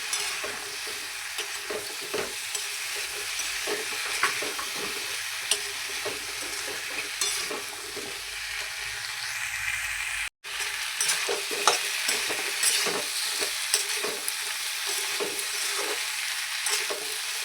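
Pumpkin and egg frying in a pan while being stirred, with a continuous soft sizzle and repeated scraping strokes of a utensil, close and fairly quiet, no talking.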